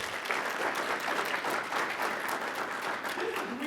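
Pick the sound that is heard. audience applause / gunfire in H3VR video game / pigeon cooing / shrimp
audience applause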